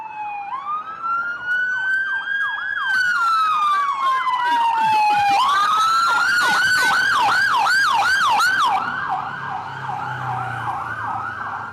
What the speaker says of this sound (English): Lots of ambulances going back and forth.